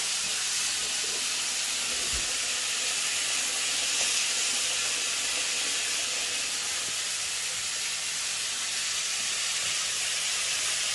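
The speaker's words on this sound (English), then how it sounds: "Always when you're cooking salmon, drop the skin first." Salmon laid skin-side down in a hot pan gives a steady, close, loud sizzling hiss that holds evenly throughout without speech.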